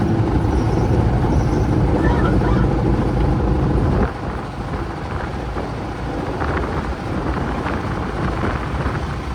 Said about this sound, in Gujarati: હવે પવન બહુ વધી ગયો.